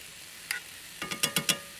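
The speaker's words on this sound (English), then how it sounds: "I'm gonna give that a stir." Black sea bass frying in a pan as a utensil stirs it, a soft scrape followed by four quick scraping strokes in a row over a faint sizzle.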